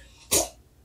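A single short, sharp sneeze bursts out once, close and moderately loud, against a quiet background.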